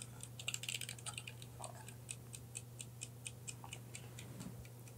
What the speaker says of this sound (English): so nerve wracking with the ticking sound